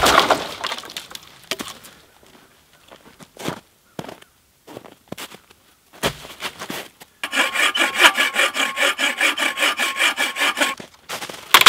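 An aluminum Quick Buck Saw cuts firewood, scattered knocks and short strokes at first, then a long run of fast, rhythmic rasping saw strokes, close and fairly loud, with no talking.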